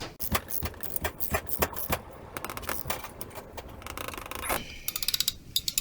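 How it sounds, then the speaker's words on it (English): A 9/16 ratchet tightening an inline brake flaring tool, giving a quick series of close, sharp metallic clicks in bursts, then a denser run of ticks near the end, all quiet with no talking. "Then we simply tighten it in with the ratchet."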